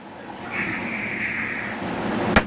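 A steady aerosol spray of cleaner hisses for about a second onto the recoil spring of a Sig Sauer P365 X-Macro Comp pistol, close by, followed by a brief sharp click.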